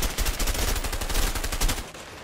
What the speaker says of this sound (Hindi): मेरी गोली जो गन है ना तर्क तर्क करके मार रही है